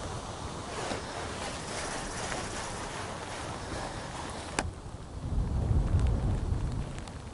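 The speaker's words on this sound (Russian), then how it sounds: "Опять дождичек" Steady rain hisses throughout at a pond during crucian carp float fishing, with a sharp crack and a deep rumble of thunder swelling partway through, no voices.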